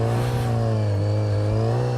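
Superbike engine holding a steady, loud drone at around 3,000 rpm during a slow, clutch-controlled wheelie, with strong even harmonics and no talking throughout.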